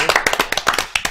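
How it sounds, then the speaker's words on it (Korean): Quick, crisp hand claps in praise of Oh Se-hoon, about ten sharp slaps in rapid, slightly uneven rhythm, close and loud with no talking over them. "오세훈 박수"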